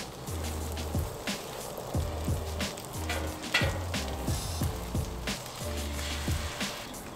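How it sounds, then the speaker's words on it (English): Egg frying on a Pit Boss four-burner griddle, a steady close sizzle with soft crackling pops and no talk over it. "now I'm gonna cook the egg"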